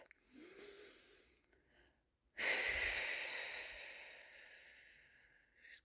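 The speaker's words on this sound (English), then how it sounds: "take a few deep breaths" Slow, deep breaths come close to the mic: a soft inhale, then a long, loud, airy exhale that fades gradually, with no talking.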